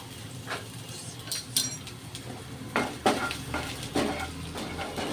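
Chopped ginger and garlic sizzle gently in a pan on low flame, with a steady soft frying hiss broken by close clinks and scrapes of a spoon stirring, no talk.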